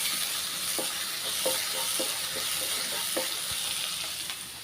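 Onions sauté in a hot pan in a home kitchen, giving a constant close sizzle and hiss, punctuated by a regular series of light scraping clicks from stirring.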